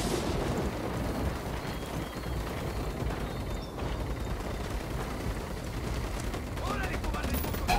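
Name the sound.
gunfire in video game Ghost Recon Wildlands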